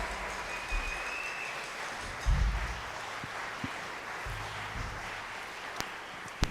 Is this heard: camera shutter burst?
no